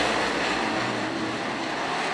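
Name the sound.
UMP late model race cars racing at green flag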